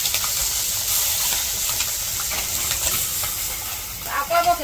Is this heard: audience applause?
no